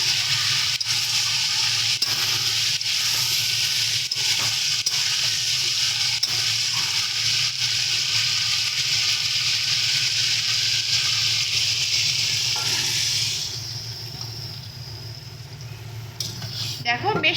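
Water poured into a pot of simmering drumstick, potato and bori curry, a steady bubbling, hissing wash that continues for a long stretch before dropping to a quieter simmer, with a few light clinks near the end.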